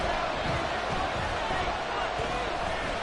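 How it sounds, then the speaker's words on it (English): A stadium crowd at MetLife Stadium roars in a football video game, a steady, dense wall of noise that holds evenly without a break. "the crowd here at MetLife Stadium in full roar"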